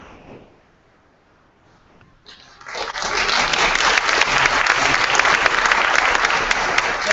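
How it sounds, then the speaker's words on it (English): Church audience breaking into applause for a speaker, a quiet moment then a swelling, dense, sustained clapping from a large crowd that holds steady and loud to the end. "I appreciate the applause"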